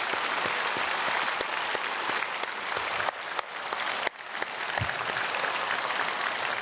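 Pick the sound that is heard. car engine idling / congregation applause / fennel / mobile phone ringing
congregation applause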